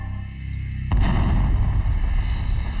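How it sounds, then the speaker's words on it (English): A deep cosmic explosion effect erupts after a brief shimmering tone, a heavy booming rumble that swells suddenly and sustains loudly to the end, close and alone. "satellites picked up the greatest cosmic explosion ever recorded."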